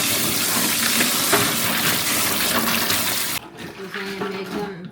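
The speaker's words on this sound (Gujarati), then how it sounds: "એકદમ ઘહીને માંડવી ધોઈ નાખી." Peanuts are rubbed and rinsed in water, a loud, splashy rushing and swishing close by that drops to quieter sloshing and trickling near the end. A voice talks over it.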